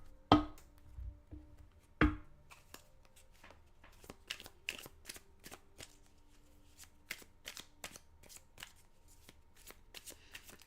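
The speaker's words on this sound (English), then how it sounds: "shuffle the cards" A deck of tarot cards is shuffled by hand, two sharp riffles followed by a long run of quick, light flicking taps, close and fairly quiet with no talk.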